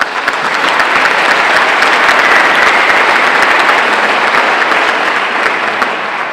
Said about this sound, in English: we have to celebrate with a round of applause for that right now